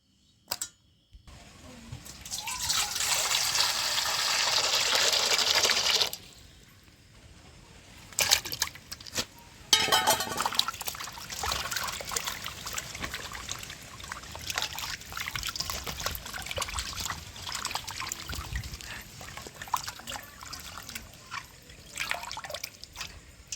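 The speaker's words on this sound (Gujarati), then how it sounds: "આપણે પાણીમાં સરખી રીતે આપણે ધોઈ લેવાની છે" Pomfret fish rinsed by hand under running water, with steady splashing and trickling for several seconds, then a pause and renewed dripping, sloshing handling noises close by.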